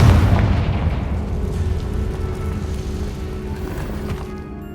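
A Confringo blasting spell goes off in Hogwarts Legacy, a loud low boom that opens hard and then rolls into a long rumbling decay with continuous low-end energy throughout.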